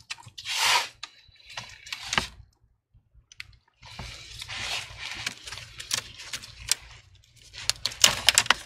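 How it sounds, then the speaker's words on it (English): A metal prying tool works open the adhesive-held screen of an HP 15 EF laptop, giving faint scattered clicks and scraping crackles with quiet gaps between them. "prying it open at the same time using the metal prying tool to cut off the adhesive"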